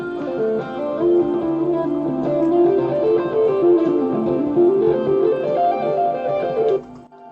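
An electric guitar recorded through a Line 6 Helix rings out a slow, sustained melodic line with delay trailing each note, steady and fairly loud with no voices, before cutting off near the end.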